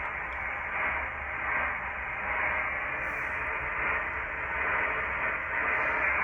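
Steady hiss of radio static from a Heathkit HR-1680 receiver tuned to an amateur band, with a faint rising and falling swell, no voices, a continuous band of receiver noise.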